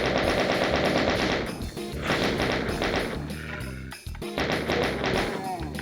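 A chaingun in a Doom map from the RAMP 2025 collection fires in rapid bursts of rattling shots, three sustained volleys broken by brief pauses, loud and close with in-game thuds mixed in.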